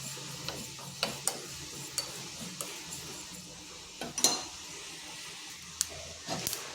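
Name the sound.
whole cumin seeds crackling while frying in oil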